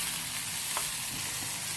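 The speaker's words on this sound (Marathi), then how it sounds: "आता टोमॅटो टाकूया, तो पण आपण परतून घेऊया." Tomatoes and frozen peas frying in a pan, a brief, steady, hissing sizzle that stays fairly loud throughout.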